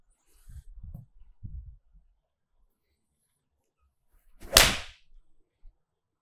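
A Titleist T100 or Callaway Apex CB golf iron strikes a ball off turf outdoors: a single sharp, loud crisp impact with a brief swish, preceded by faint low murmurs and soft rustling.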